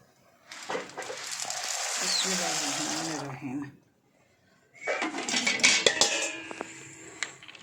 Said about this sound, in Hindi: इसमें चमचा उसी टाइम हिला दिया करो कि आपस से चिपक ना जाए मैकरोनी